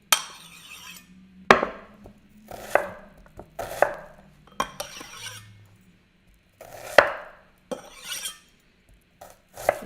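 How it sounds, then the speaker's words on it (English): Knife roughly mincing onion on a chopping board, a run of sharp, close chopping thuds in uneven bursts with short pauses between, heard alone. "And then the last one, just roughly mince it."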